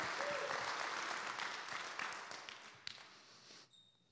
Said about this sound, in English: Can somebody give God a hand clap this morning